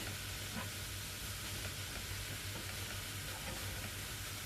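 Cashews fry in a pan with a faint, steady sizzle and hiss, broad and continuous with a low background hum, no stirring strikes standing out.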